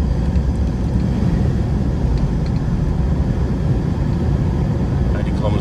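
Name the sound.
Mitsubishi Triton MQ accelerating in drive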